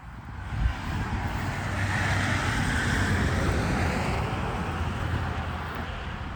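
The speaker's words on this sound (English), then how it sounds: "there's a lot of traffic out here" Steady road traffic roars past a highway rest stop, a continuous broadband wash of tires and engines from nearby vehicles with no voices over it.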